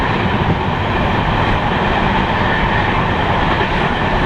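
Loud, steady rumble of a passenger train running on the Bhusawal to Bengaluru line, heard from inside a carriage with continuous rail noise and no break.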